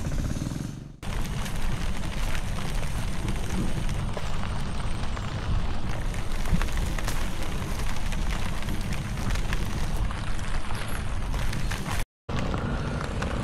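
Steady rain falls hard and close outdoors, a dense unbroken hiss and patter that runs almost the whole time and cuts out only briefly.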